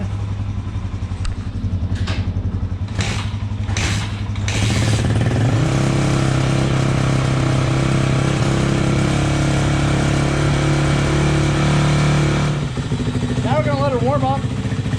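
A motorcycle with a refilled oil tank takes several kickstart strokes, each a brief mechanical clatter, then the engine catches and settles into a loud steady idle running close by; a short voice comes in near the end.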